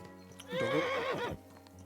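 A horse in Kingdom Come Deliverance 2 gives a single loud whinny lasting under a second, rising and then falling in pitch, over quiet hoof clip-clops and low background hum.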